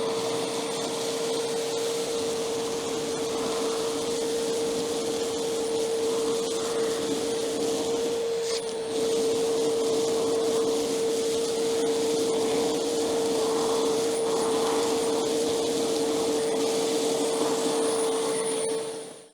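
A wet/dry vacuum cleaner runs steadily and loudly with a constant motor whine, a brief dip in the middle, then continues unchanged to the end.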